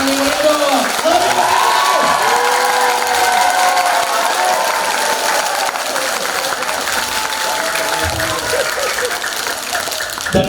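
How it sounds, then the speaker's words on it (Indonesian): An audience at a business success-story event bursts into loud, sustained applause and cheering, a dense crowd roar with whoops and shouts, with a voice talking over it. "Tepuk tangan yang meriah dong."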